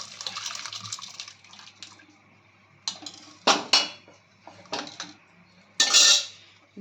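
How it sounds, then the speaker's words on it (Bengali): Dal and vegetables tip into a pot of sautéed spice masala for sambar, a soft wet slosh giving way to several sharp metallic clanks of pan and utensil, fairly close, with no talking. "এবার আমরা এই যে ডাল সবজি সবটা এর মধ্যে ঢেলে দেবো"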